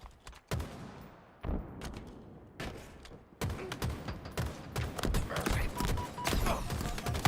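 Rapid gunfire and fusillades from the video game Halo, in loud clustered bursts with sharp cracks and short gaps between them, heavier toward the end, with no one talking.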